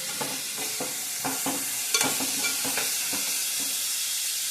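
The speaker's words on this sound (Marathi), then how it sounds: "फरसबी आणि घेवडा टाकायची, भाजी टाकायची आणि परतून घ्यायची तेलावर" French beans and ghevda being stir-fried in hot oil in a pan: a steady sizzle with repeated rhythmic scraping strokes of a spoon turning the vegetables, close and alone.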